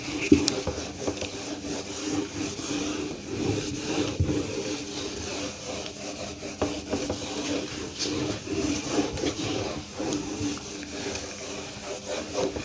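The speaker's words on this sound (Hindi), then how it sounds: "ठीक है, इसको अब मैं रब कर देता हूँ।" A duster rubs out chalk writing on a classroom board with a continuous dry, scratchy scrubbing that stays close and steady, and no one speaks.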